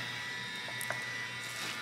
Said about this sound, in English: Now my robot vacuum cleaner decided now would be a great time to start